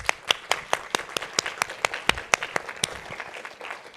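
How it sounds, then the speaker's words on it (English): Conference audience applause at ISOJ 2017: steady, rhythmic clapping with sharp, close hand claps standing out over a broader crowd, continuing throughout. "I want to give you a big round of applause"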